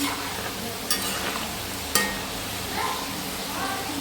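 Jackfruit pieces frying in bubbling hot oil, a steady soft sizzle with a couple of sharp clinks and scraping stirs from a utensil against the pan.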